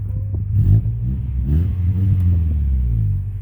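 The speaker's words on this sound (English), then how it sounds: "I've got a knockoff brand Flowmaster 40 series muffler on the car." A 2000 Toyota Camry engine with about 275k miles and a knockoff Flowmaster 40 series muffler, with the catalytic converter deleted, idles with a deep, loud, throaty rumble that swells briefly as if lightly revved.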